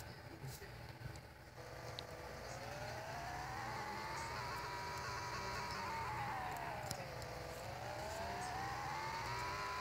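A car in a video game revving and driving, its engine whine rising and falling smoothly and steadily at moderate distance, with faint background noise.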